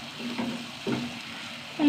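Pumpkin stir-fry cooking in a pan with curry leaves, a low steady sizzle with soft stirring scrapes and a louder burst near the end.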